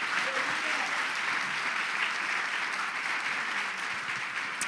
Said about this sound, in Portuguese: E dê o melhor aplauso a Jesus mais uma vez.